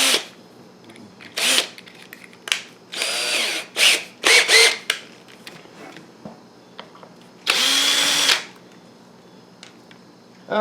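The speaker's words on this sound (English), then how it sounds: "Let's see if that'll work quicker with the drill." A power drill backs screws out of the base plate of a ZD Racing Pirates 3 RC car, running in several short whirring bursts with quiet gaps between them, close and loud, with one longer burst near the end.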